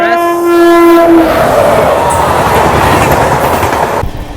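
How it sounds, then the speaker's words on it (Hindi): The Radhikapur Kolkata Express passes close by, opening with a loud, sustained horn blast, then a heavy roaring rumble and rattle of wagons that continues until the sound cuts off near the end. "सामने से ये जो ट्रेन आ रही है ये है राधिकापुर कोलकाता"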